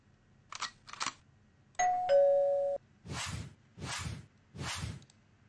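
A subscribe-button notification bell chimes twice with a bright two-tone ding. Brief swishes come before it, and three broad whooshes sweep past after it.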